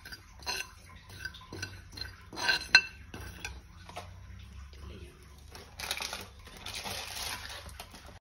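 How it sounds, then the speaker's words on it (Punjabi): Cumin seeds dry-roasting in a pan, stirred with a metal spoon: a run of light scraping clinks and taps, close and irregular, with a brief louder burst of rattling near the end over low kitchen hum. "ਜੀਰੇ ਨੂੰ ਆਪਾਂ ਚੰਗੀ ਤਰ੍ਹਾਂ ਭੁੰਨ ਲਵਾਂਗੇ, ਇੱਦਾਂ ਚਮਚਾ ਫੇਰ ਫੇਰ ਕੇ ਭੁੰਨਾਂਗੇ।"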